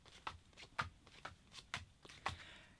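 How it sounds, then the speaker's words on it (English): A deck of cards is riffle-shuffled for a card game, heard as five crisp, close ripping bursts spaced about half a second apart, with quiet gaps between them and no talk. "The first thing you're going to do is shuffle this deck and then deal out 6 cards to each player"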